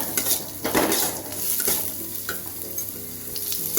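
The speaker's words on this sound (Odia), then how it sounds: "କଟା ହୋଇ ରଖିଥିବା ରସୁଣକୁ ପକାଇବା ଏବଂ କିଛି ସମୟ ତାକୁ ସଟେ କରିନେବା" Chopped garlic sautés in a pan with a close, crackling sizzle, with metallic scrapes and clinks of a spatula against the pan as it is stirred, loud and uninterrupted by talk.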